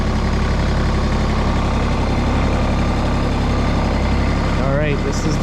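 A Mahindra tractor engine runs in low gear with a loud, steady, deep rumble that stays constant throughout.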